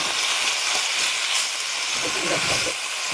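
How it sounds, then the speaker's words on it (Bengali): Chopped vegetables, pumpkin among them, fry in a pan with salt and turmeric, giving a steady close hiss of sizzling oil with a faint voice underneath. "ভালো করে একটু ভেজে নেব লবণ হলুদ দিয়ে"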